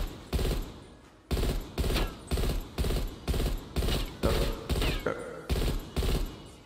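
Rapid bursts of automatic gunfire with tracer rounds in Black Ops Cold War, loud and close, firing in a steady string of short, evenly spaced volleys with brief gaps between them.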